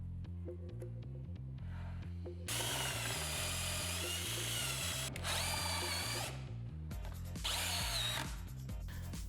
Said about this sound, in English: I mark and drill a hole for the threaded insert.